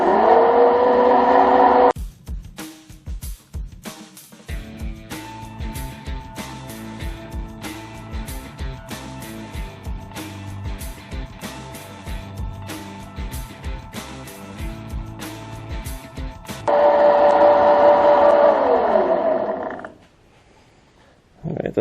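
A Clausing lathe or milling machine cuts a gear in a workshop, with a steady mechanical whir and rhythmic ticking through the middle, louder motor hum at the start and near the end, then stopping.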